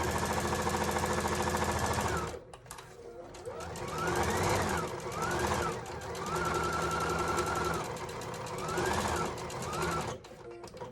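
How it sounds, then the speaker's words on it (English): A sewing machine stitches a seam on a jacket or blazer, a close, rapid mechanical whir in sustained runs broken by short stops and restarts, with a brief back stitch and no talking over it. "Sewing up the seam."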